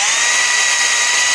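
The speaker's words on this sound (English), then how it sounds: "we recommend pre-drilling the holes in your cut parts" A steady, high-pitched whine of a power drill pre-drilling holes in retractable screen door parts, running continuously at constant speed, close up, with no pauses.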